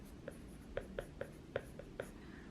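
A stylus writing on an iPad screen in GoodNotes, making about seven soft, crisp taps and ticks in an uneven rhythm, close and quiet over low background hiss.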